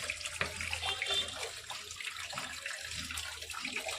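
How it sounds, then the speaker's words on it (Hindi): Water pumped by an electric motor runs through a pipe into a soil-free growing setup, a steady close trickle and gush like a running tap, continuous for the whole stretch with no talk. "अब मैंने वहाँ पे स्विच ऑन किया जिसके कारण मोटर से पानी पाइप के द्वारा इसमें आया है"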